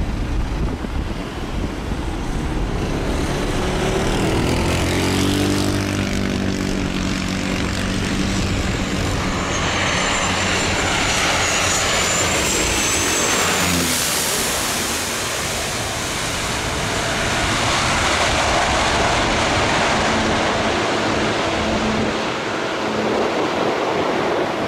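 An airplane on its steep approach to St. Barthélemy airport makes a loud, steady roar of engine and rushing air that swells and shifts over about 25 seconds, with no talking.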